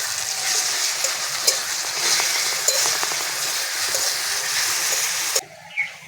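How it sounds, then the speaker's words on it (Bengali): Garlic paste fries in hot oil with browned onions for a mutton and potato curry, a loud, steady, close hiss with small pops and scrapes that cuts off abruptly near the end. "রসুনটা ভালো করে ভেজে নেব।"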